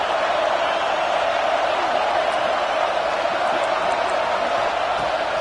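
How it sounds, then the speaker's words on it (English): A constant roar of a large crowd at a college football game, steady and dense with no breaks, like a packed stadium buzzing throughout. "This crowd bringing the energy and noise early."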